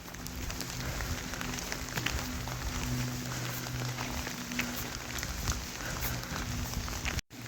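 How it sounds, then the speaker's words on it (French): Heavy rain falls steadily near Montredon, a dense, continuous hiss of drops with faint low hum underneath and no voices. "la pluie redouble d'intensité"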